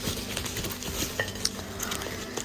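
Ceramic plates from an English Home gift clinking together as they are unpacked, a string of light, close chinks and clatters over faint rustling.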